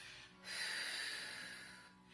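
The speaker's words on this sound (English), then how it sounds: "So your long out breath should sound like this." A long, steady out breath demonstrated during a Pilates exercise, a soft hissing exhale that swells after a brief pause, holds for over a second and fades gently, close and alone with no talk.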